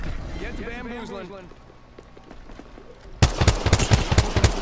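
Apex Legends gameplay: a voice talks at first, then loud, rapid automatic gunfire bursts in and keeps firing in a fast, continuous rattle.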